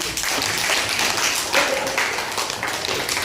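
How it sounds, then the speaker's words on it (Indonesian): A classroom gives a short, steady round of applause for a student named Anissa, with dense clapping from many hands throughout. "aplaus buat Anissa"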